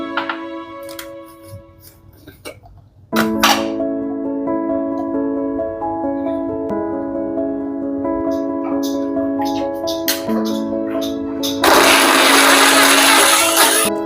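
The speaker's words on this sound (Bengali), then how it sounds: "এবার আমি আপেল আর খেজুর এই দুটোকে একসাথে মিলিয়ে গ্রাইন্ড করে একটা পেস্ট বানিয়ে" A kitchen grinder blends apple and dates into a smooth paste, its motor starting abruptly and whirring steadily and loudly, rising into a harsher, brighter roar near the end.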